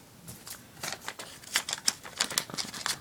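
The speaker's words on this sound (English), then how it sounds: "Scissors are awesome." The scissors of a Leatherman Wingman multitool give a quick run of close, crisp snips and clicks, irregular and getting sharper toward the end, with no talking.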